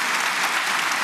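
Dense audience applause at a televised public forum in a studio arena, a loud, continuous wash of many hands clapping with no voices over it.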